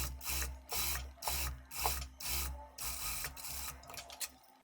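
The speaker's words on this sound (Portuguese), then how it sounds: "Passo uma costura lá na máquina reta com a distância de meio calcador." A straight-stitch sewing machine runs a topstitch half a presser foot from the edge along a dress lining seam allowance, in close, loud bursts of rapid stitching separated by short pauses, with no talking.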